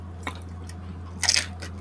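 Crispy lechon pata bitten in two quick crunches, one light and one louder and longer a second later, close to the mouth against a quiet background hum.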